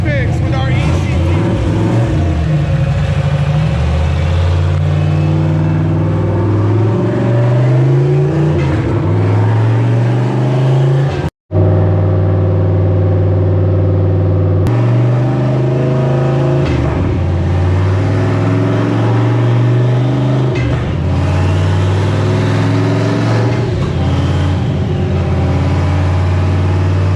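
Foxbody Mustang with an On3 turbo and a 363 stroker engine running hard on a dyno, a loud sustained engine roar climbing through the revs, cutting out briefly partway through, then pulling again.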